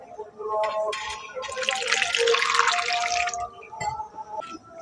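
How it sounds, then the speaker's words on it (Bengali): Ripe mangoes being washed in water, with close splashing, dripping and running water from a tap or sink that swells in the middle and continues under soft background noise. "এখন আমগুলোকে আমি ভালো করে ধুয়ে নিচ্ছি"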